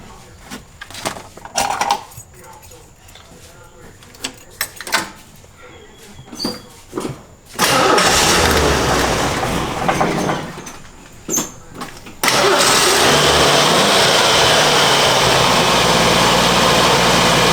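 A 1983 Jeep Scrambler engine cranks and fires, first with scattered knocks and handling sounds, then a loud rough idle that dips briefly before settling into a steady, close running roar.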